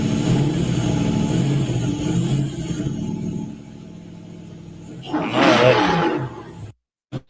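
A six-cylinder engine in a sleeper four-door sedan that looks ordinary, roaring steadily, then swelling into a louder rev burst before cutting off.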